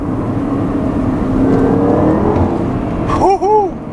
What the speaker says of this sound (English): It only gives you a tiny bit of turbo noise, but what you can hear sounds really nice.